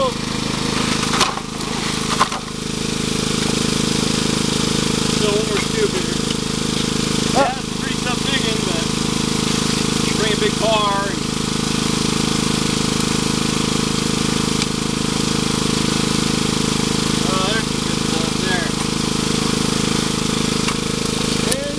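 A 1.5 horsepower motor drives a gold highbanker outdoors, a steady loud engine drone running throughout, with faint voices and brief clanks over it.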